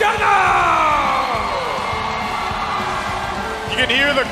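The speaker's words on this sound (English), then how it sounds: "You can hear the crowd here." Large arena crowd at the M5 World Championship esports knockout stage roars and cheers steadily throughout, loud and dense, with whoops rising near the end.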